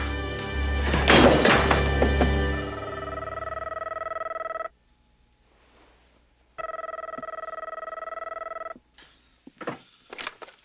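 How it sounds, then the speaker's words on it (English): An old-style telephone bell rings in repeated long bursts, loud and close, with a brief clash of noise at the start and short pauses between rings, followed by faint clatter and shuffling. "Somebody get the phone."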